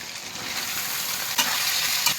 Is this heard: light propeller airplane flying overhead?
no